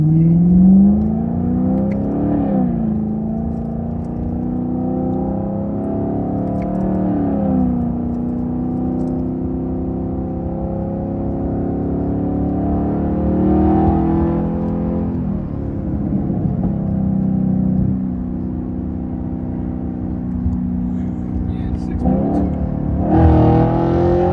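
A 500 hp burble-tuned Chevrolet Camaro with a direct-injected engine from the same family as the C8 revs up and settles repeatedly, a loud, steady, close-up engine drone with rising pitch sweeps and a sharp blip near the end.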